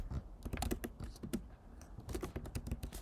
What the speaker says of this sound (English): just need to start by typing to define this function